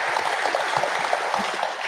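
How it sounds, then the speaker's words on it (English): Audience applause at a U.S. Department of Energy celebration in Flint, a dense steady patter of many hands clapping throughout, moderately loud with no voices over it. "Give a round of applause for that."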